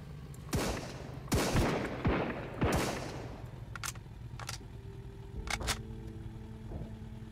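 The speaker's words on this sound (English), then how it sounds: "More guys are shooting from the left." Enemy gunfire in the survival game Sunkenland: three loud, sharp shots early on, then several fainter, more distant single pops spread over the rest of the stretch.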